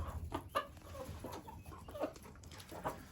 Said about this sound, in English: iss Frizzle, got a little Bantam over there, a couple of black Australorps.